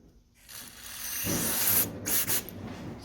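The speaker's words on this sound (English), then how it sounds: "And spray it out again." Cleaner sprays in a short, rising hiss through the small holes of a Suzuki Katana motorcycle carburetor during a rebuild, the hiss loud and close and fading briefly near the end.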